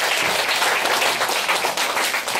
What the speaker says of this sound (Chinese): 所以现在就请大家以最热烈的掌声欢迎我们王雅亮王博士